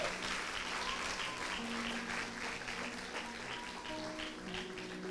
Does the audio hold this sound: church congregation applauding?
yes